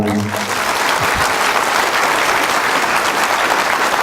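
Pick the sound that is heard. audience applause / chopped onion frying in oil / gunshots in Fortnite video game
audience applause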